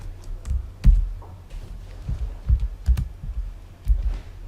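Irregular keystrokes on a computer keyboard, close and fairly loud, with a few sharper taps like an Enter press scattered among softer clicks.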